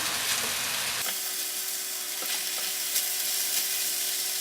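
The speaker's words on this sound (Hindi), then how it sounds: "इनको 1 मिनट के लिए फ्राई करेंगे।" Steady sizzling of rice frying in a pan with salt, ground garam masala and raisins, a constant crackling hiss with occasional small pops, no voices.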